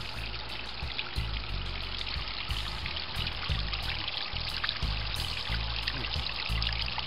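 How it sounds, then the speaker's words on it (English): Homemade backyard waterfall with water spilling over a plastic-tub weir: a close, steady splashing pour with gurgling trickles throughout, no voices. "here's a much better recording of the waterfall."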